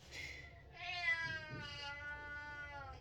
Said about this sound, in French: Mon chat qui râle.